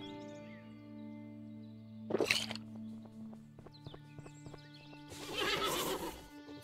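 A horse in the video game Above Snakes whinnies twice, each a loud shrill burst, over a steady low hum with light hoof clops between.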